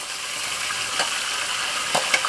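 Prawns and mixed seafood hit a hot wok for a stir-fry, giving a steady close sizzle and crackle with a few brief scraping stir strokes and no talk.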